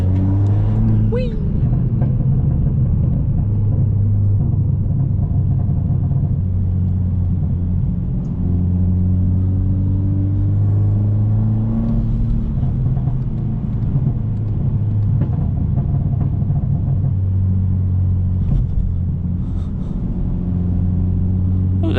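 Car engine rumbling steadily and rising in pitch as it accelerates along empty roads in Belgium, loud and close from inside the cabin, with a voice talking over it.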